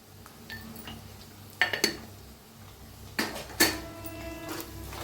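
Metal spoon scraping and clinking against a pan while spices are stirred and roasted, several sharp clanks in irregular bursts over a quiet background.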